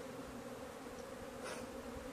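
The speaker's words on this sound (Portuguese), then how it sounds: "Por conta do movimento dessas abelhas que estão aqui na porta, que estão avisando as outras." Honeybees at the hive entrance in an apiary make a steady, soft, even buzzing hum that stays close and continuous, with no talking.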